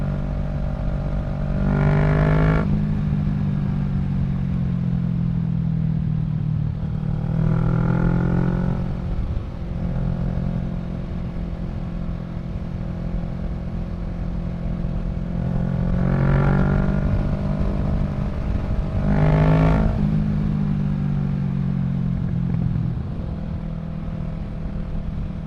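A Kawasaki Z650 fitted with a Yoshimura Alpha exhaust rides along, its engine note rising and falling through several revving surges over a steady droning rumble, with no talking.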